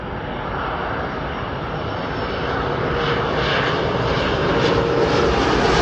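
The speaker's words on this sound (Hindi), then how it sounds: "Here comes the Thai Airways A330 straight from Bangkok." A Thai Airways Airbus A330 at Delhi airport gives a loud, continuous engine roar that holds steady and swells slightly over several seconds, with no voices.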